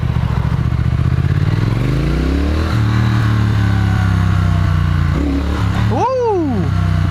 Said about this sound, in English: this definitely has that good rumble though